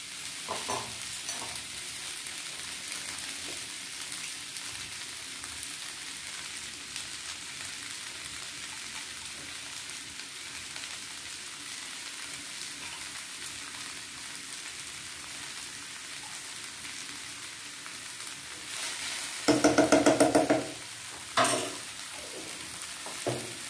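Sabudana pulao with vegetables frying in ghee in a pan, a soft steady sizzle with quiet scraping as it is stirred, then a brief louder burst of clatter near the end.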